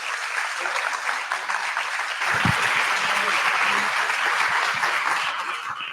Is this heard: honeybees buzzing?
no